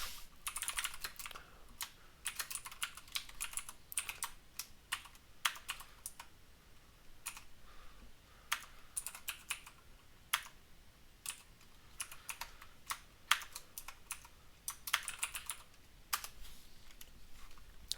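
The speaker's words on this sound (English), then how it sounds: "you want to type in the second command instead" Rapid, irregular typing on a computer keyboard, entering commands while setting up C++ in VS Code, with clustered key clicks and brief pauses running steadily across the whole stretch, close and clear, with no talking.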